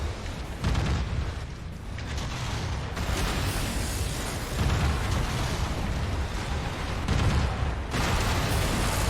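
Enemy mechs open fire in the MechWarrior 5 video game, a run of heavy booms and blasts rolling one into the next with dense, steady rumbling and no voices.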